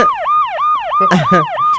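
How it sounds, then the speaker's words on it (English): A wailing emergency siren sweeps up and down in a fast, regular cycle, loud and close outdoors, with a brief burst of other noise in the middle. "heard a siren outside too"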